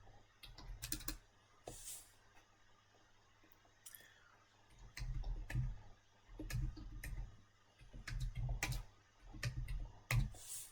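Bursts of typing on a computer keyboard, with quick runs of close, crisp key clicks separated by short pauses, in a quiet room with no talking.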